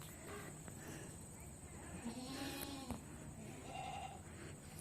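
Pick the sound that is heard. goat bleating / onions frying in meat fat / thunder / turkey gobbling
goat bleating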